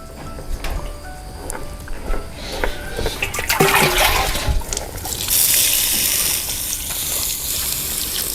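Scattered clanks and knocks lead into a sharp hiss and sizzle as an old hoe's hot metal blade plunges into water, followed by a sustained bubbling, gushing wash.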